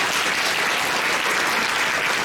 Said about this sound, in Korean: 오늘 여기서 함께 해주신 교수님께 큰 박수 부탁드립니다